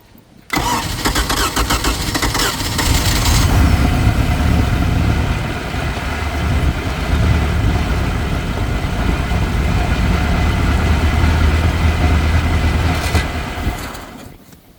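A 1980s Bronco boat engine cranks and fires, then runs loud and close with a rough, steady rumble for most of the stretch before it cuts off near the end, with no talking over it.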